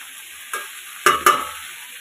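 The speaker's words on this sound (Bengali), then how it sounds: "এইভাবে ঢেকে ঢেকে কষিয়ে নেবো কিছুক্ষণ।" Spices for a Bengali dish cooking in a pan, a faint steady sizzle broken by three short scraping stirs near the middle.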